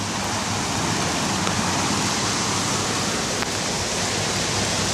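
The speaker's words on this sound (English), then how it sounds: "it's not the highest I've seen it, but it's flowing pretty well" A creek swollen by heavy rain rushes past in a dense, constant broadband roar, close and steady with no pauses and no voices.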